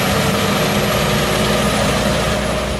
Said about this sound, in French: Elle est propulsée par un moteur de 5860 et 1 cm3.